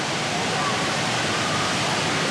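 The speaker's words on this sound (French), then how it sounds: "Une cascade néon" Steady, dense rush of falling water from an indoor neon-lit waterfall inside a Singapore airport terminal, a loud continuous broadband roar with no breaks or voices.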